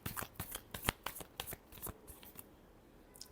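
Tarot cards shuffled by hand in a quick run of crisp riffling snaps and flutters, close and fairly loud, thinning out toward the end with a last flick.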